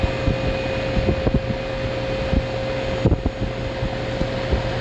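An old Goodman air conditioning unit runs with a steady broadband whir and a faint tonal hum, punctuated by occasional soft knocks and ticks from the machinery, heard up close with no talk.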